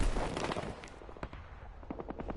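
Rapid bursts of gunfire from a Wii U shooting video game, several sharp shots in quick succession followed by a steadier run of evenly spaced shots, dense and loud.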